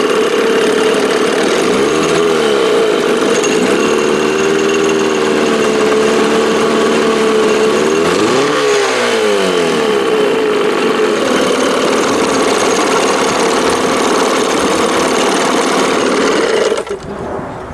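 A 1987 Johnson 6 hp outboard motor runs loud and close, with a steady buzzing two-stroke drone whose pitch dips and recovers twice as the throttle changes, then cuts off abruptly at the end.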